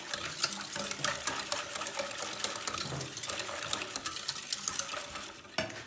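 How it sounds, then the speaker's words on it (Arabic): A spoon stirs a no-bake cheesecake mixture after vanilla sugar is added, making quick, continuous scraping and swishing strokes, close up and soft, with no talk. "وغادي نحرك بحال هكا"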